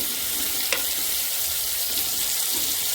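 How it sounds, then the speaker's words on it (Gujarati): Small chopped drumstick pieces being stirred into a vegetable curry frying in a pressure cooker, with a steady bright sizzle throughout and a single soft clink of the spoon partway through. "જે સરગવોના નાના નાના ટુકડા કરી લીધા છે તે ઉમેરી લઈશું અને સારી રીતે મિક્સ કરી લઈશું।"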